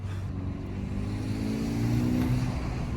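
A Volkswagen Golf GTI Edition 35 accelerates with a steady, rising engine drone heard from inside the car, loud and continuous without talk.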